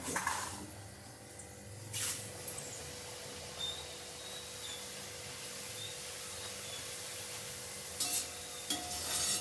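Poha flakes fry in hot oil until they puff up for chivda, a soft continuous sizzle with occasional sharp scraping stirs of a slotted spoon against the pan.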